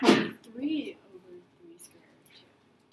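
A single short, sharp sneeze at the very start, close and fairly loud, followed by quiet speech in a classroom setting.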